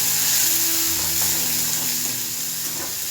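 Small shallots cut in half sizzle steadily in hot oil in a pan for coriander chutney, a close, continuous frying hiss with faint stirring and no voices.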